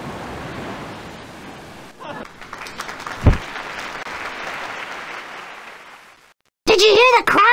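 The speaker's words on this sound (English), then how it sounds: "Did you hear the crowd? I'm a hit." In the 1996 PC game Elroy's Costume Closet, a synthesized crowd applause swells as a wash of noise, then fades to silence before a character's voice cuts in.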